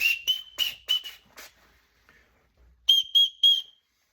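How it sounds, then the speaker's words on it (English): Small whistle built into a Kings Guard 70-litre backpack, blown in two bursts of short, sharp, shrill toots, five quick blasts, a pause, then three more, loud and close. "Again, we got this little whistle, more of a gimmick, but hey, you never know when you'll need it."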